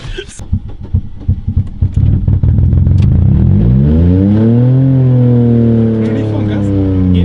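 Three-cylinder car engine pulling away at full throttle, revs climbing loud and close as it accelerates through a gear change, with rattling and a voice over the first seconds.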